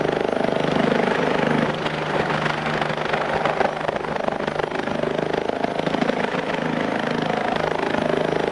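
Continuous rotor chop of a park ranger helicopter in the video game BeamNG.drive, loud and steady throughout, with a rumbling engine drone underneath.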